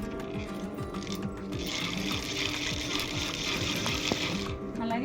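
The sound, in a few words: sewing machine stitching a jute bag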